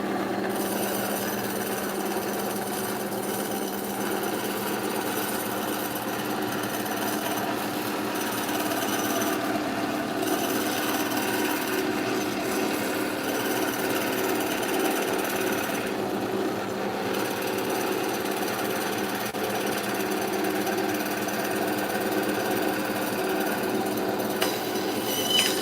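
A power tool runs loud and steady on a workbench for the whole stretch, a dense grinding, hammering roar with no breaks and no voices.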